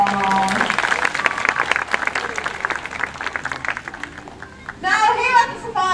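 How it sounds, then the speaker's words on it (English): Audience applause and cheering at a sea lion show in a safari park, sustained clapping from a crowd for the first few seconds, with a voice and other voices rising near the end. "I think everybody would like to give him another round of applause."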